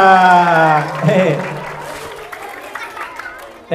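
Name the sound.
children's audience applause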